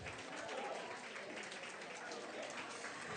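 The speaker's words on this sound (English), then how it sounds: "Let's give another round of applause to the amazing panel." Audience applause for a panel at a Grow with Google meetup, dense steady clapping from a crowd, sustained and even throughout.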